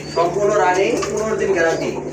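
A pair of big Indian Bombay white pigeons with crests coo steadily in throaty, warbling rolls close by, while someone talks over them throughout.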